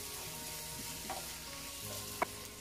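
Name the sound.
stirring seasoned vegetables sizzling in a frying pan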